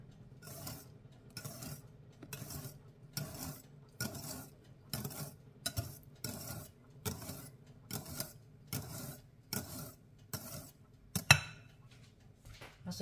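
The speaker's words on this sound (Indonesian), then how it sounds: "Aduk perlahan." Vanilla cake batter is stirred slowly in a bowl, producing a steady series of about fifteen evenly spaced scraping clinks of a utensil against the bowl, close and fairly quiet.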